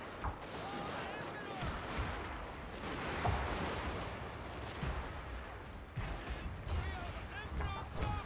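In the video game Fall of the Samurai, a battle at Ueno brings dense gunfire and artillery booms that crackle and thud steadily under a narrator's voice, with moderate, continuous volume.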